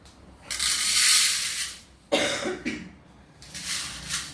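A person with a lingering cough gives two harsh coughing fits followed by a shorter third burst, close and loud, with quiet pauses between them.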